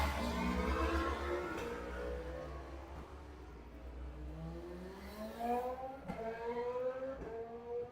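A racing motorcycle at a road race revs repeatedly from a distance, engine pitch sweeping up and down in faint, uneven bursts as the slipping wet clutch lets the revs flare without gripping.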